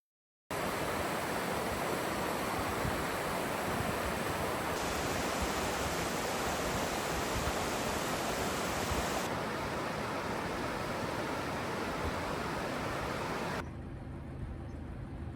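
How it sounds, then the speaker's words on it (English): Lost Creek near Stave Falls Dam rushes past in a loud, continuous broadband wash of flowing water, steady throughout with no voices. "Here's Lost Creek."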